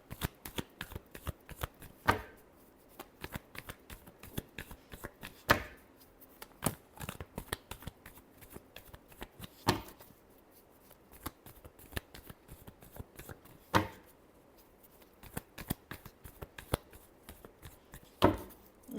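Tarot cards being shuffled, a run of crisp riffling and slapping bursts with a few sharper swells, close and fairly quiet, with no talking over it.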